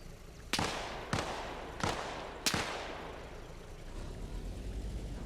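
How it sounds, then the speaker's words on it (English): Four sharp gunshots crack at distance, spaced about a second apart, each trailing into a long echoing decay over a rumbling outdoor background. "Hear those gunshots?"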